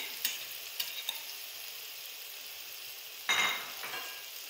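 Fried okra being mixed into onion masala in a pan: a low, steady frying hiss with a few light taps from the spoon, then a louder burst of scraping and sizzling near the end.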